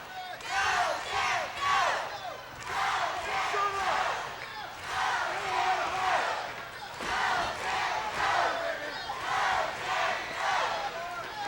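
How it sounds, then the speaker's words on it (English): A large arena crowd at a wrestling event roars and cheers in loud rising and falling waves, chanting and yelling continuously, with a commentator's voice faintly mixed in. "Frank rallies this crowd."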